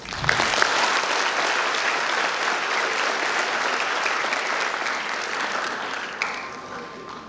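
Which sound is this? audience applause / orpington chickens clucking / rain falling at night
audience applause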